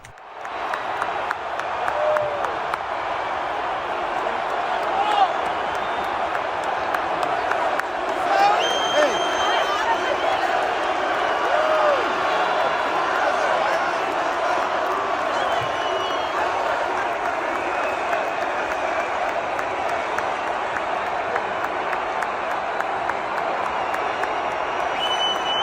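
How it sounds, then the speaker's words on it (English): A large stadium crowd roars and claps as someone walks out onto the field, a broad, distant, sustained swell of cheering that holds steady throughout with a faint voice over it. "You can hear the crowd light up as they start to realize who just walked out on the field."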